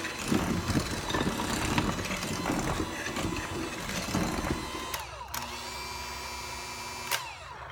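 An electric mixer beats vanilla into sugar cookie dough, a rattling, motorized whir that clatters unevenly, then settles into a steadier tonal hum before stopping briefly near the end; no one speaks.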